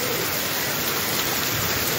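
Hail falling steadily in Placetas, Villa Clara, Cuba, a dense, loud, unbroken hiss of pellets striking surfaces close by, with no voices.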